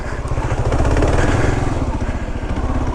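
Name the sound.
ATV engine riding on muddy trail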